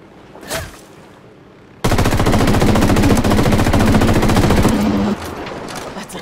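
Rapid sniper and automatic gunfire in the tactical shooter Ghost Recon Wildlands, loud and sustained for several seconds after a brief sharp crack, with dense overlapping shots continuing to the end.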